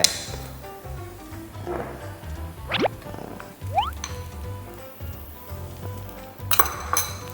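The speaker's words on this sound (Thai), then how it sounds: "จากนั้นเนี่ยเราก็จะใส่ข้าวนะครับของเราลงไป" Cooked rice and fried garlic are stir-fried in a pan over high heat, with a low sizzle beneath repeated clanks and scrapes of a metal spatula against the pan and a few sharp clinks.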